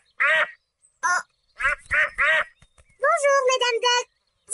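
Cartoon ducks quack in short bursts, several separate quacks then a rapid run of them, close and loud against silence.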